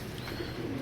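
A pigeon gives a brief, faint, low coo among caged birds for sale, heard alone and quietly for under a second.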